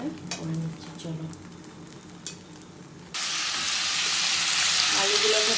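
Two-egg omelette seasoned with salt and ground black pepper sizzles loudly in a pan, a broad steady hiss that jumps up sharply midway and holds, after quieter clinks and stirring.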